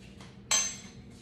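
A metal fork and spoon are lifted from a kitchen surface, giving one short bright clink over quiet room tone.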